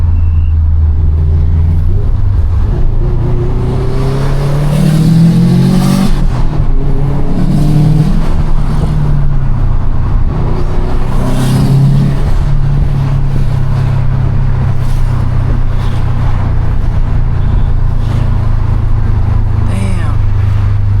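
A car engine revs hard and accelerates in loud, close surges, with the pitch climbing through each gear before it settles into a steady drone; a voice is heard briefly over it.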